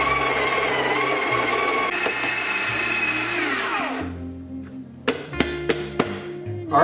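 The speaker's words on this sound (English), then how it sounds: "All right, so 18 grams, we're gonna grind at 12." A Breville Smart Grinder grinds 18 grams of coffee with a loud, steady whir and rattle that winds down about two-thirds of the way through, followed by a few sharp taps and knocks on the machine.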